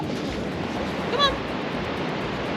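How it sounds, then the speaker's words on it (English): Ocean surf washes steadily onto a beach at Dalmeny or Narooma, a constant broadband roar throughout, with a brief honk-like call rising over it midway. "It's so relaxing just walking along, listening to the waves"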